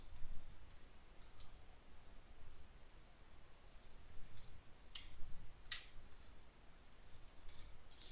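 Typing Python code on a computer keyboard, a quiet, irregular patter of key clicks with scattered sharper taps, heard close in a quiet room.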